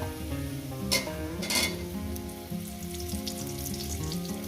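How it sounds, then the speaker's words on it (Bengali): Eggplant and potatoes fry together in a pan with a steady close sizzle, and a couple of louder stirring scrapes briefly stand out, with no voices. "বেগুনটাকে বেগুনটাকে দিয়ে আরো আমি চার পাঁচ মিনিট ভেজে নেবো"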